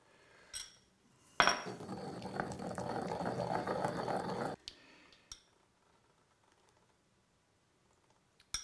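Aioli being worked with a spoon in a bowl as olive oil goes in a spoonful at a time: a soft wet churning and clinking for about three seconds, framed by a few sharp taps and then near silence.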